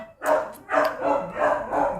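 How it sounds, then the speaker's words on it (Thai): A dog crying out at night in several short, loud, repeated yelping calls at close range, one after another, with no talk over them. "หมาถึงหอน"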